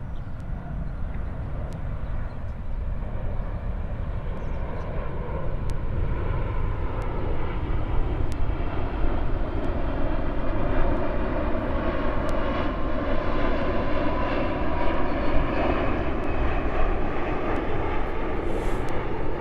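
An airplane passes overhead with a continuous loud engine roar whose tone slowly shifts as it moves, steady and alone for the whole stretch.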